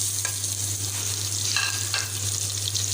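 Tomatoes added to a hot pan of Pakistani chicken curry, frying with a continuous sizzle and a few light stirring scrapes over a low steady hum.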